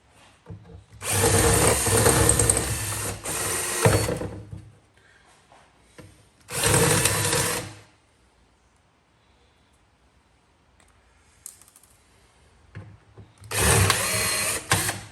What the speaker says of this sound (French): Et puis ensuite, délicatement, je vais venir percer les rivets.